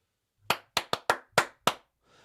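Six sharp, separate hand claps in an irregular slow rhythm, close and loud with silence between them, followed by a faint murmur at the end.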